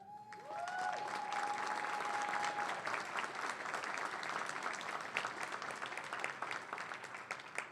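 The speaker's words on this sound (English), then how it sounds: "We applaud the Eastlake High School robotics team for their hard work and achievements" Applause fills a school board meeting in honor of the Eastlake High School robotics team, a steady wash of clapping from the seated audience lasting several seconds, with a brief high tone ringing near the start.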